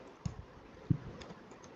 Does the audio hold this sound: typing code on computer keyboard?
yes